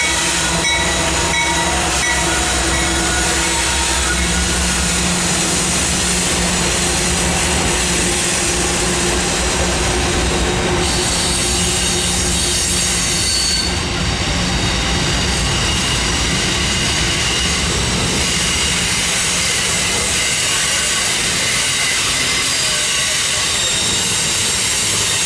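Train number 282 rolls past on the outside track of a Georgia line on a cold February evening, a loud continuous rumble and rail roar that sustains and shifts as the cars go by.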